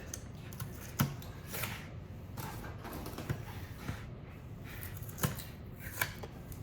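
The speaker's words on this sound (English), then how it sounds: "let's take off these tapes" Packing tape is peeled off the cardboard box of a touchless bathroom trashcan: faint, close crackling rips and soft scratchy handling with a few sharp clicks, no talking.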